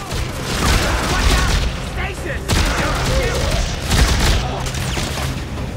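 Gunfire in the video game Dead Space 3, a loud dense stream of rapid shots and booms filling the whole stretch, with bursts of mechanical noise.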